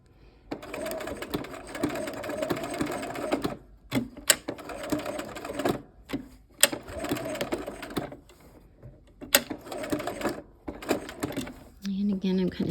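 A sewing machine runs in short bursts while quilting, whirring steadily then pausing and restarting repeatedly as the pace slows at the pivots, with clicks between runs and someone talking quietly over it.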